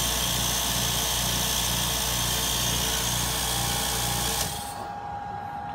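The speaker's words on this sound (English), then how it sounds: "You can hear that internal fan there, keeping it cool." A Dewalt Flexvolt portable power station powers an air compressor while its internal cooling fan runs. The pairing makes a loud, steady mechanical whine with a fast rhythmic throb that cuts off abruptly near the end, leaving a softer hum.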